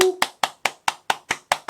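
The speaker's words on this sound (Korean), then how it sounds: "여러분들 박수." One person claps eight times in a quick, even rhythm, each clap sharp and close, alone after a brief spoken word at the start.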